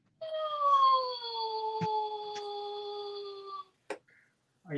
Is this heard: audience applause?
no